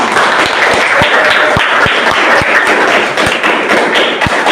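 Students in a classroom clap together after a group presentation on visual, kinesthetic and auditory learning styles, a dense continuous patter of many hands with sharper thumping claps standing out, loud and close throughout.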